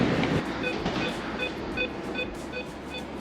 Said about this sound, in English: welcome aboard the German's Intercity Express in first class